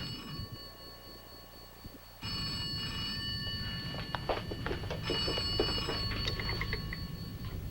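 Old-fashioned telephone bell ringing in repeated tonal bursts, fairly loud, with background room noise and clatter building in the second half.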